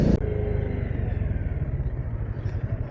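A motorcycle on a cold mountain road on the ride toward Spiti rumbles steadily and close by, its engine note holding an even, throbbing pulse throughout, with a brief clatter at the very start.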